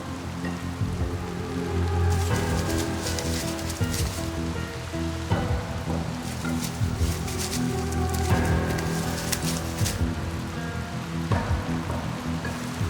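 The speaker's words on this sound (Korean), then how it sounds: "빗줄기는 점점 더 거세진다" Heavy rain pours steadily on Dokdo island, a dense continuous hiss of drops pattering on surfaces with no voices, holding loud and even throughout.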